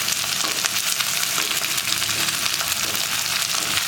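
Sliced onions and split green chillies fry in a pan for an egg curry, giving a steady, close, even sizzle with faint stirring scrapes and no talk.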